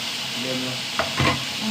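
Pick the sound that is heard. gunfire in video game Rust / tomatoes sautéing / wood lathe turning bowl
tomatoes sautéing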